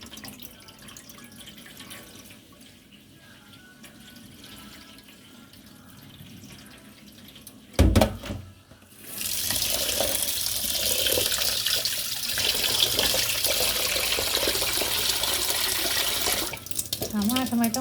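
Sticky rice is washed in water. Quiet handling comes first, then a brief clatter, then a steady, close rush of running water that lasts for the remainder.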